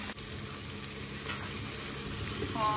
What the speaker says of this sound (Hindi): और हम तलते हैं इनको